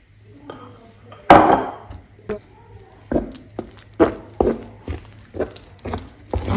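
A plantain fritter (kaaklo) mixture being worked into flour in a bowl, with a sharp knock followed by a steady series of clinks, scrapes and soft thuds, close and fairly loud.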